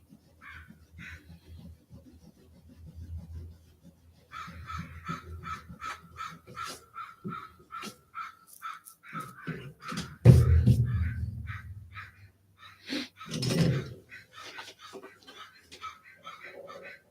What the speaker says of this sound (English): crows are just going nuts today